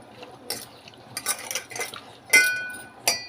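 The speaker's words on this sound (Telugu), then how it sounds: "ఇలా మిక్స్ చేసుకుంటున్నానండి మొత్తం." Chicken pieces being mixed with salt and ginger garlic paste for chicken pickle, giving scattered clinks and scrapes of a spoon against a bowl, with a few sharper knocks near the end and no talking.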